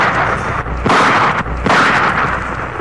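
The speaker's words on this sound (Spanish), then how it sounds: "Hizo tres disparos." Two loud, booming shotgun blasts in quick succession, each a broad burst with a rough, rumbling tail, close and heavy.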